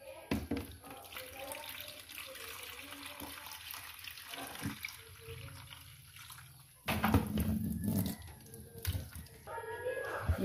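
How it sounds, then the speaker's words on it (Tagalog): Tap water runs steadily into a basin as fresh fish are washed for a home-cooked fish soup, a continuous splashing flow that grows louder partway through, with a person talking over it. "Lagyan ko muna siya ng konting tubig."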